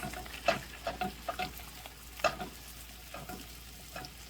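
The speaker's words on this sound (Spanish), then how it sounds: "Y vamos a empezar a revolver." Potatoes, poblano chile strips and onion fry in oil and butter in a pan while a utensil stirs them. Rhythmic scraping strokes sit over a quiet background sizzle, with no talk.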